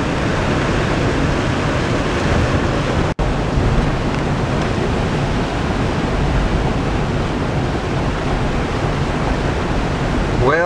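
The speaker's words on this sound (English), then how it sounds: "There's so much water coming down here you could drown just walking across the street." Heavy rain pours down steadily on a street in downtown Oregon, a dense, loud, unbroken wash of water that continues throughout with a single brief dropout.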